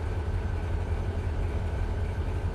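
A freight train rolls back on a grade of almost 1% in the Run 8 Train Simulator game, a steady low rumble and rail drone, loud and continuous with no talk.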